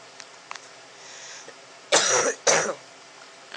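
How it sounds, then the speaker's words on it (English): Two harsh coughs from a sick person come close together after a quiet stretch with a few faint clicks, each one loud and near. "I apologize for the coughing."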